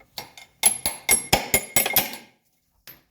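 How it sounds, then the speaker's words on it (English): Sharp metallic hammer blows knocking a front suspension bolt out of a 1985 Mercedes 300CD: a quick run of about eight close, ringing strikes, then a pause and one last faint tap. "And now we can push that bolt out"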